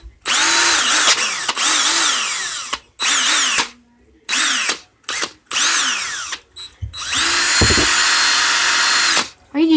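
A DeWalt 20V Max lithium-ion cordless drill whirs loudly in repeated bursts, spinning up and winding down between short pauses, with one long final run close by.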